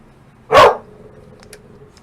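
A single sharp dog bark in the video game Fallout, loud and close, followed by faint quiet ticks against a near-silent background.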